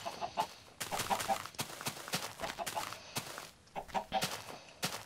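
Chickens in the Minecraft video game cluck repeatedly in short clustered bursts, mixed with blocky footstep sounds and game noise, all fairly close and at a moderate level.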